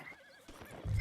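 Hoofbeats and a horse's whinny in Red Dead Redemption 2, a short neigh-like call followed by heavy, loud hoof thuds building near the end.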